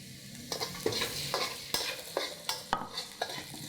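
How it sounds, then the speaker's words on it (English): Onion frying in oil over high heat, a continuous sizzle broken by about eight regular scraping stirs of a utensil against the pan. "So I cook the onion until it's soft."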